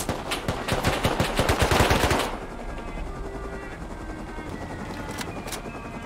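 Gunfire aimed at the player in the video game Rust, a rapid burst of close automatic shots for about two seconds, then a quieter hiss with faint distant pops.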